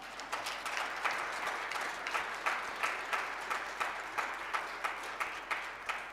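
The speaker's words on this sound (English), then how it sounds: "you can do better with that round of applause" Guests at an official signing ceremony for South Africa's acting president clap in a moderate, slightly uneven round of applause, with distinct individual claps audible and some distance in the sound.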